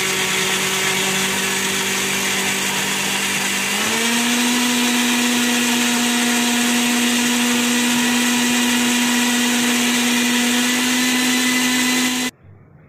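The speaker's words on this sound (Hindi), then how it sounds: "अब इसका आपको क्या करना है जस्ट मिक्सी में इसको गिर गिर करना है" A loud mixer grinder blending a hair mask whirs steadily, its motor pitch stepping up partway through, then cuts off abruptly near the end.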